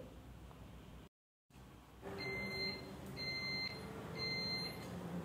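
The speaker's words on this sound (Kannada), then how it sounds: "ಎಲೆಕ್ಟ್ರಿಕ್ ಕುಕ್ಕರ್ ಬೀಪ್ ಸಹ ಆಯಿತು, ರೆಡಿಯಾಗಿದೆ ಅಂತ." Three clear electronic beeps from an electric cooker signalling it is ready, evenly spaced about a second apart, ringing out over a low background hum.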